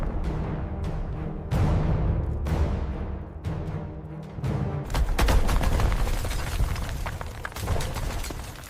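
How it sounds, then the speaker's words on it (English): Heavy booming blasts rumble one after another, deep and loud, with a roaring, crackling rush of noise swelling in the second half. "The great cannon roared with fury!"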